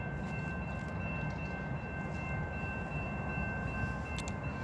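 Train rolling past in Folkston, Georgia, a steady broad rumble of railcars heard at moderate distance without pause.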